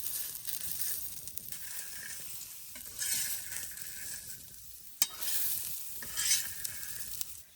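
Pigeon pea grains dry-roasting in a pan, a soft rustling scrape of grains being stirred with bursts of light crackle, fairly quiet and alone with no voices.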